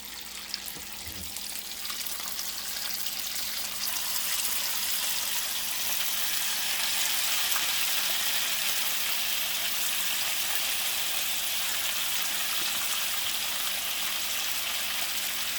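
Cauliflower 65 pieces deep-fry in hot oil, a loud, dense, continuous bubbling hiss that swells after the first few seconds and holds steady, with no talking.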